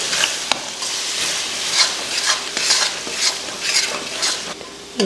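Beaten eggs seasoned with salt are stirred in a frying pan for muttai parotta, with a loud, close sizzle and repeated scraping strokes of the spatula against the pan every half second or so.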